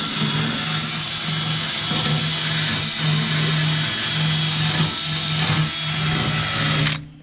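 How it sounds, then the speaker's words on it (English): A wire brush spun by a drill scours the inside of the fuel tank from a 1961 Pontiac Laurentian, a loud continuous whirring grind with a rhythmic pulsing drone that stops abruptly at the end. "wire brush on a drill."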